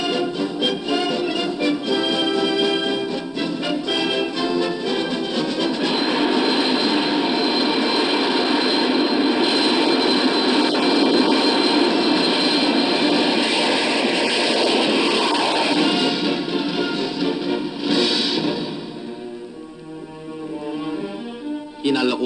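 Jet engines of a 1965 Lufthansa airliner at an airport stop in Hong Kong make a loud, continuous roar that swells and holds, then eases toward the end.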